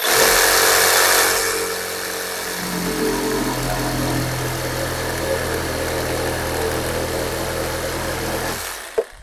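Procraft industrial RS20A cordless reciprocating saw cutting brick or block, a loud, steady buzzing drone that runs for about nine seconds before cutting off abruptly, with no talking.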